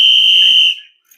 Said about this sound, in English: I have to blow the whistle on that one